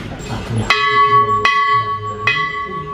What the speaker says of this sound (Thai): ก็จะเคาะระฆังจากด้านในนะคะ จากลูกด้านในนะคะ ทั้งหมด3ครั้งค่ะ